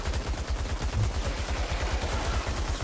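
Sustained automatic gunfire in the video game Outriders, a rapid rhythmic stream of close, punchy shots hammering without a break, no talking.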